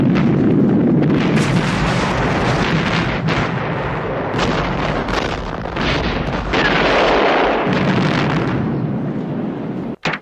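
Benzene fuel tanks blow up in a desert war film, with a roaring, sustained explosion of dense rumbling and crackling bursts that holds loud for about ten seconds before cutting off abruptly.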